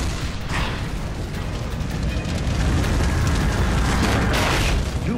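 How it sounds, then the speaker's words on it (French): Tank battle explosions and artillery fire in a World War II documentary about combat in the Baltic countries sound as a continuous, rumbling roar of booms with heavy low-end, growing louder partway through. "Les explosions étaient constantes."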